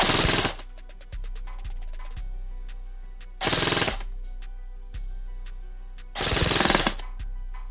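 Airsoft gun, a DSG build, emptying a magazine in three loud bursts of rapid full-auto fire, each lasting under a second, with quieter mechanical clicks and a steady hum between bursts.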